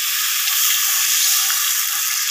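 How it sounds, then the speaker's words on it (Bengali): Water added to spices frying in a pan, a loud, steady hissing sizzle that fills the whole moment without any voices. "মশলা তোমার জলটা আমি দিয়ে দিলাম"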